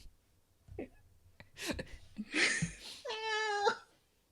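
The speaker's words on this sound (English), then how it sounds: "Don't meow at me." A cat meows in a drawn-out, wavering cry near the end, loud and close. Brief speech-like sounds come before it.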